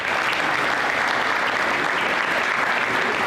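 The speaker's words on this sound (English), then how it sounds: "Join me in a round of applause for these individuals and their outstanding service to our chapter." A banquet crowd at the Fairbanks FFA chapter event breaks into loud, dense, continuous applause, a steady wash of many hands clapping with no pause throughout.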